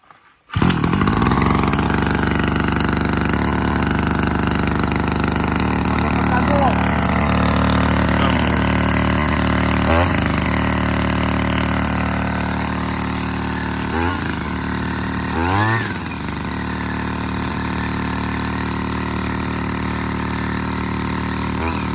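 A Vitals BK4 petrol brush cutter runs continuously with a loud, steady two-stroke drone at high idle, close by. A few brief throttle blips and rattles break it up, and someone talks faintly under the engine.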